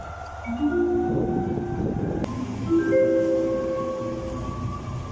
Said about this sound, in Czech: Prosím, ukončete nástup, vlak je připraven k odjezdu.